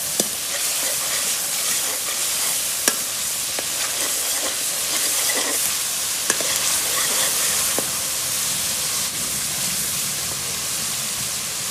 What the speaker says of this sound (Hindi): तो अभी इनको तड़का लग रहा है